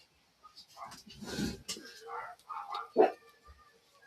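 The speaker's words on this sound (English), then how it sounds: "We left the sliding door open and the dogs next door are barking." Neighbouring dogs bark through an open sliding door, a few scattered barks and yips at moderate distance mixed in with people talking nearby.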